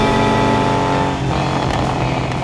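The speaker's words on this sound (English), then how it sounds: "It's a stock 3-liter flat 6, but when you start it with an aftermarket exhaust, it sounds like a race car" A 1980 Porsche 911SC with a stock 3-liter flat-six and aftermarket exhaust roars loudly and close, a steady rich drone that shifts in pitch partway through.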